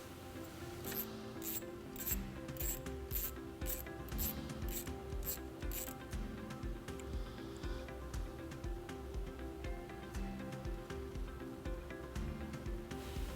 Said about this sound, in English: We're going to remove this nut right here using a 10mm socket.